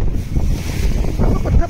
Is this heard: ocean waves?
yes